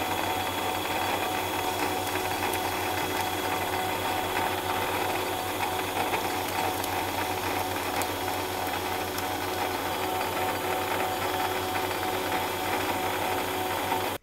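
Manual lathe turning a bronze gear crown with an aluminium cutting tool, cutting the half-round groove; a steady, continuous mechanical whir and scraping drone runs unbroken throughout, alone and fairly loud.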